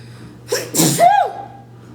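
A single loud sneeze with a sharp intake of breath, then an explosive burst and a trailing vocal tail, close and isolated against a faint hum.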